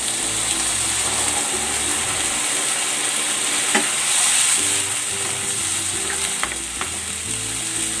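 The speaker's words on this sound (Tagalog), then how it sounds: "Bubuhos ko na dito yung gata." Coconut milk simmers with pork for Bicol Express, a steady bubbling sizzle with faint clinks and scrapes of stirring throughout, and no one speaking.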